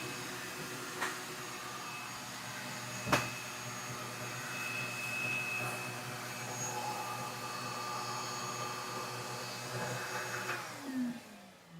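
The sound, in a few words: shop vac running while clogged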